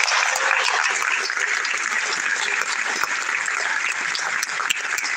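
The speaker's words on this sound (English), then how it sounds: "Round of applause for everybody." Loud, dense applause from a graduation ceremony audience rolls on without a break, many hands clapping at once close to the microphone.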